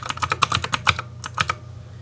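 Rapid bursts of typing on a computer keyboard while entering network settings during a Windows home server setup, close and clear with an uneven rhythm of clustered keystrokes and short pauses.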